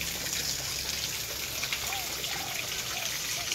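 Heavy rain pours down in a dense, even hiss, with scattered drops pattering on nearby surfaces throughout.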